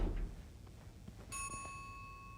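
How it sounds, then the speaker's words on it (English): A steady electronic ringing tone from jammed elevator doors in the horror game This Bed We Made, starting abruptly partway through and holding on as a clear, moderately loud tone over a dim room ambience. "That ringing. Sounds like the elevator doors are jammed."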